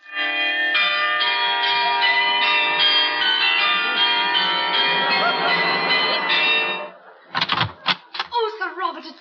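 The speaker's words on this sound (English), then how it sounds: "I pressed the bell." A doorbell rings as a radio comedy sound effect, a long sustained metallic chiming run of several seconds, loud and close, followed by a brief clattering burst.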